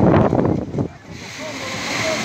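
Sea waves on the beach at Playa Coral, Venezuela: a loud surging wash breaks first, then a steady softer surf hiss continues, with some voices mixed in.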